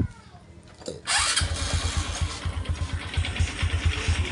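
A motorcycle with a DIY conversion clutch kit fires up after fresh oil is added, a brief whir before it catches, then settles into a close, rhythmic, chugging idle.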